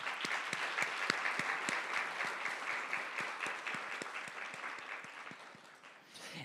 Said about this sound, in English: Please join me in giving a round of applause for Sunfa, Priya, Bernice, Ayano,